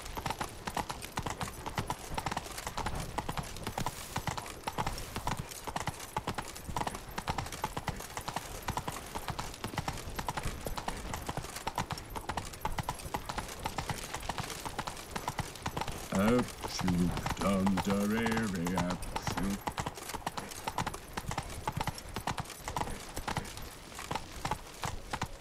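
Horse hooves clip-clopping at a steady rhythm in the video game The Witcher 3: Blood and Wine, a faint, continuous trot under game music and spoken dialogue.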